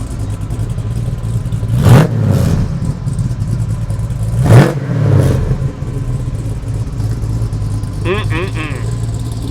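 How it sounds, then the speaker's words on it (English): A classic Chevrolet Camaro engine revs loudly nearby, with two sharp blips over a rumbling idle and a brief clatter near the end. "let me stand behind it and let you rev it. I want to hear it."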